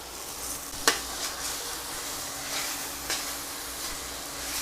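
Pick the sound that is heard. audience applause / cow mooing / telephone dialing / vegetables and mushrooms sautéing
vegetables and mushrooms sautéing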